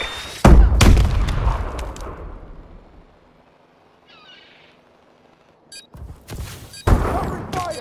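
Gunfire in Call of Duty: Advanced Warfare: loud, sharp shots crack close by, decay into a quiet lull with faint distant noise, then a second burst of heavy shots hits.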